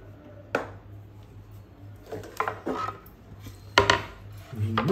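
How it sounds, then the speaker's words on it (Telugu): A knife chops onions on a cutting board in a home kitchen: a few sharp, irregular knocks with faint clatter between them in a quiet room. "ఇలా నేను ఉల్లిగడ్డలు కట్ చేసుకుందామా."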